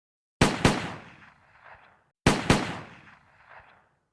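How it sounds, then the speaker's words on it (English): Gunfire sound effect in a scene of a crowd besieging a house: two sharp, loud volleys of shots, each a pair of quick cracks with a fading echoing tail, spaced about two seconds apart, with no voices. "Then gunfire."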